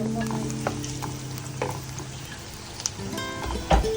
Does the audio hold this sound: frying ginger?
yes